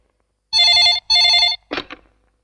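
A telephone rings with two long electronic trilling bursts, loud and close, followed by a short clatter as the receiver is picked up.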